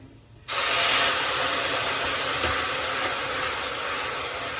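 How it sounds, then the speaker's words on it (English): Half a cup of white wine poured into a hot pan of sizzling mushroom risotto rice sets off a sudden loud, steady hiss that holds for several seconds, with no talking over it. "Now in goes 1/2 cup of white wine"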